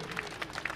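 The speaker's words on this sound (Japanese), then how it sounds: "皆さん拍手お願いします" Brief applause from an audience at a Tohoku dance festival after a little ballerina's performance, with faint, scattered clapping.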